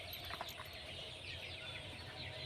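Chickens cluck faintly in a poultry farm shed fitted with automatic drinkers in winter, scattered soft calls over a low steady background hum.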